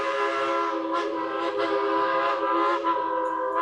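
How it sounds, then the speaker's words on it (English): Dollywood steam train on the move, its whistle sounding as a sustained, layered harmonic tone that holds steady throughout, with faint crowd noise in the background. "We can hear the train on the move"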